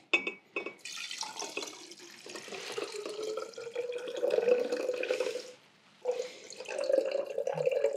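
Liquid poured into a large pot during gin making, a steady continuous splashing stream with a brief pause before the pour resumes, close and moderately loud, no talking.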